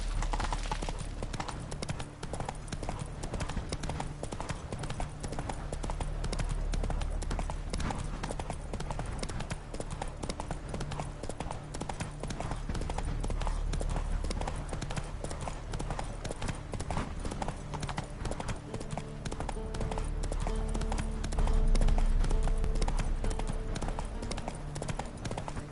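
Roach, a horse in a video game played on PS4, trots with a steady, rhythmic clip-clop of hooves that continues unbroken for the whole stretch. The hoofbeats are close, even and prominent against a faint background.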